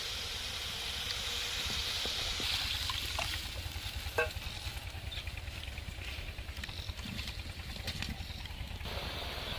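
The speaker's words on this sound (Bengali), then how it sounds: "ঝোলটার ফুট এসে গেছে" A curry gravy with melted tomatoes and spice paste simmers toward a boil in a pan, a faint steady bubbling hiss with occasional soft pops and a low rumble underneath.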